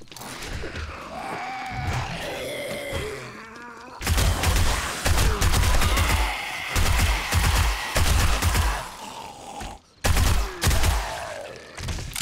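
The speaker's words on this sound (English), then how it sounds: "just do like short bursts here so we can conserve ammo" Machine-gun fire in short bursts during a horde night in 7 Days to Die, loud close volleys broken by brief pauses, opening with a quieter stretch before the heavy firing starts.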